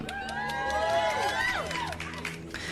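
A crowd cheers and shouts in a lively, sustained swell of overlapping voices with rising and falling whoops, loud and dense throughout.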